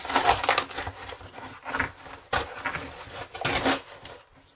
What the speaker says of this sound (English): I'm just going to rip the front of this box off.